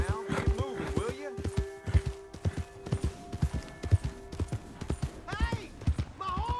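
In the game Red Dead Redemption 2, a horse's hooves clip-clop in a steady rhythm and the horse snorts and whinnies, while someone talks over it.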